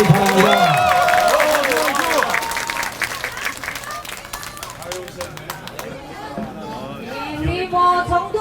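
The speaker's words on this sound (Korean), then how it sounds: "정중규 위원장께 크게 응원 박수 보내주시기 바랍니다" A crowd at a party committee launch rally applauds a committee chair, with dense sustained clapping and cheering around a loud speaker's voice, the applause thinning out midway before swelling again near the end.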